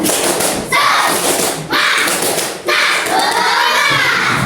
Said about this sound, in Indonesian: Coba kasih ibu tepuk semangat.